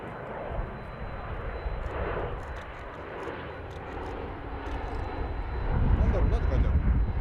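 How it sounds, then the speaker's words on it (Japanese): A fixed-wing airplane roars loudly past an airport plane-spotting area, a broad, steady engine rumble that swells louder toward the end, with people talking over it. "わ、これ飛行機すごい賑やか。"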